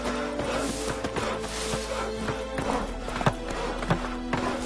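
A horse gallops in The Witcher 3 video game, its hooves beating a steady rapid clip-clop over a constant wash of game ambience and music.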